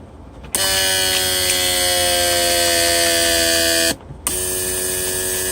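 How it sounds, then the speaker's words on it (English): A Mercedes W140 S-Class central door-lock pressure/vacuum pump runs on a test bench with a steady, loud electric buzzing whine, stopping briefly for a moment before starting up again. "So we activate our pump."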